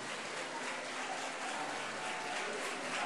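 An audience at a PASOK political gathering applauds in a steady, even wash of clapping that sounds faint and distant, with no break throughout.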